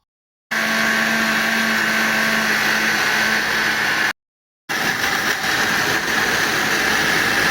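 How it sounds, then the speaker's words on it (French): A blender whirs loudly through pineapple pulp in two steady bursts, stopping briefly in between, with a constant motor whine and churning hiss. "Je vais passer le tout au mixeur pour en retirer"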